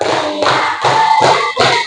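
A group claps hands in a five-beat rhythm, sharp close bursts of slapping hands repeating with brief gaps, loud and without speech over them.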